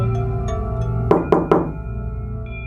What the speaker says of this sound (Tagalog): 3 malutong na katok.